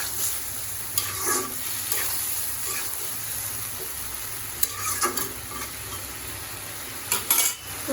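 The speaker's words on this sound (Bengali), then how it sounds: "তো এখন আমি আস্তে আস্তে সেদ্ধ করে নেব।" Carrots and taki fish cooking in a pan, a steady soft sizzle broken by occasional scraping stirs and a few metallic clinks of a utensil against the pan.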